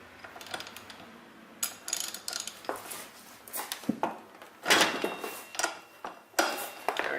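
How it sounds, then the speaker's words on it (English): A nut being undone on a Vespa GTV-300 wheel hub, heard as irregular close metallic clicks and clinks of a tool working on it, with louder clusters near the end. "Okay, so now we're just going to undo this nut here."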